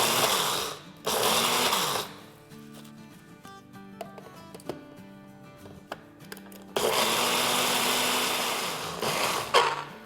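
A blender coarsely grinds soaked rice with a little water for kheer. Loud whirring bursts start and stop, then a quieter pause with faint clatter, and a long final grinding run closes it out.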